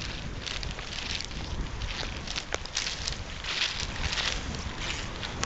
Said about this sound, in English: Quite gusty just now, Ian.